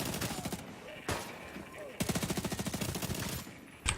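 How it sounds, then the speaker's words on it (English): Close-range SMG fire in The Division 2 crackles in rapid bursts, a short volley, a brief pause, then a longer sustained string of shots ending in one sharp report. "These SMGs are dirty up close."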